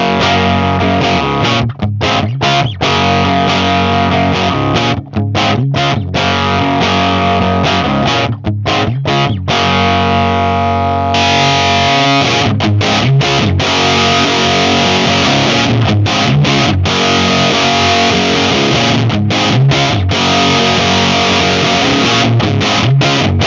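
Electric guitar driven through a Tube Screamer style overdrive pedal, loud sustained distorted chords and riffs with brief stops, played continuously without talk.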